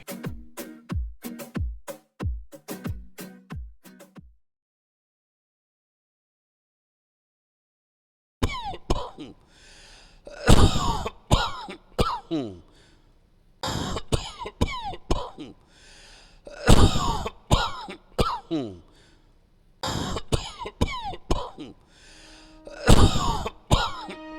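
A rapid burst of coughs, then a pause, then repeated hoarse coughing fits and throat clearing, loud and close.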